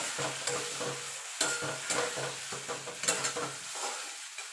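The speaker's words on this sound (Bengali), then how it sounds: "এবার যে শুকনো লঙ্কা আর পেঁয়াজটা ভেজে রেখেছিলাম সেটা দিয়ে দেবো দিয়ে ভালো করে মিশিয়ে নেব" Fried dry chillies and onion being stirred into a mashed flat-bean bhorta, a steady sizzle broken by repeated scraping stirs close by, with no talk.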